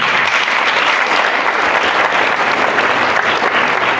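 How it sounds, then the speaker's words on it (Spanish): Loud, dense applause from a church congregation praising the Lord during a Spanish-language service, a continuous roar of many clapping hands filling the room for several seconds. "Denle un fuerte aplauso al Señor."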